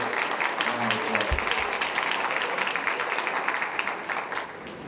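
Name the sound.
audience applause for class advisors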